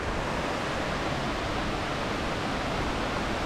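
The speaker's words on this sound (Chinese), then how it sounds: "现在我要下去瀑布这边" A waterfall at a nature spot roars as a steady, dense wash of rushing water, constant and unbroken throughout with no voices.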